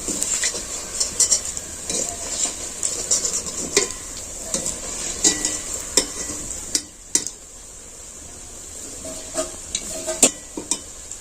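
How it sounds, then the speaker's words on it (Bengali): Cabbage fritters sizzle in hot oil as they are turned and lifted out, with repeated clinks and scrapes of a metal spatula against the pan over a steady frying hiss, briefly quieter midway. "এই যে আমার উল্টে পাল্টে লাল করে ভাজা হয়ে গেছে এবার আমি এটা তেল ঝরিয়ে তুলে নিচ্ছি"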